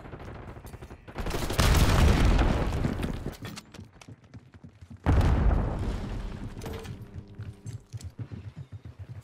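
A frag grenade explodes in a Call of Duty multiplayer hardpoint match, two loud broadband blasts with rumbling tails over ongoing game gunfire, the second sharper and followed by fading debris and ambient battle noise.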